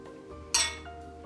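Wine glasses clink once in a toast, a single bright, sharp chime that rings briefly and fades over a quiet room background.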